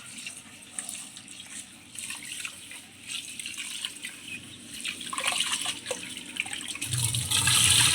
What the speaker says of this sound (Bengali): এভাবে পর পর কয়েকবার ধুয়ে নিব।